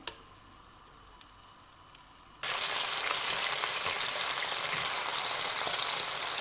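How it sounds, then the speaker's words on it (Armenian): Chicken breast sizzles loudly in a hot pan on fairly high heat, a steady dense hiss that jumps in suddenly partway through after a quiet start with a few small clicks. "մսերը պետք է տապակենք երկու կողմից, ոչ թե եփելու ենք, այլ երկու կողմից պարզապես տապակելու ենք"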